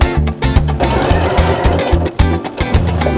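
A sewing machine stitches neck binding on a patchwork top made from tea towels, its needle pounding in a fast, steady mechanical rhythm with brief pauses, close and loud.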